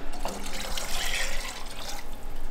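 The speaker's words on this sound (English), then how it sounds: "now I'm adding peach schnapps" Peach schnapps and Everclear are poured into a mixture of peaches, syrup, sugar and cinnamon sticks, making a steady splashing, gurgling liquid stream with no talking.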